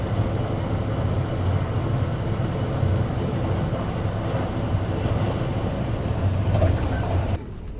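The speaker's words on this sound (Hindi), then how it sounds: "किसी ट्रेन के साथ क्रॉसिंग तो हुई है" A steady low rumble and rattle of a passing train at Phaphamau Junction near Prayagraj, heard from a Vande Bharat AC Chair Car train, continuous and fairly loud, with clatter throughout before it drops away abruptly near the end.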